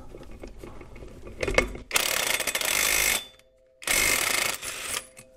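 A ratchet loosens screws on the CVT cover of a Kawasaki KVF650/KVF750 quad, heard up close as two bursts of rapid clicking separated by a short pause, preceded by some clinks of handling.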